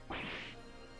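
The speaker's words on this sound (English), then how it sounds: "the sound of glass shattering" Glass shatters in the video game The Great Ace Attorney 2: Resolve, a single sharp crash with a bright, quickly fading burst of shards, heard alone and fairly quiet.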